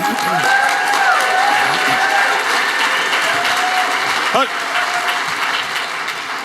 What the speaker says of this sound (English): Or you can all quit cheering for Alex.